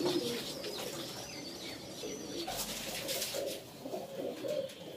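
Teddy pigeons coo steadily at close range, soft layered calls overlapping in a continuous chorus with occasional chirps and a brief wing flutter, no voices.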